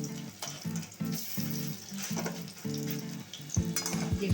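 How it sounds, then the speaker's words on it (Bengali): Jute leaf fritters bubble and sizzle in hot oil in a pan while being flipped and pressed, with close, continuous frying crackle and rhythmic soft thuds and scrapes from a utensil. "এরপর আমি বড়াগুলো একটা করে উল্টে দেবো, চেপে চেপে দেবো যাতে ভিতরগুলো ভালোভাবে ভাজা হয়।"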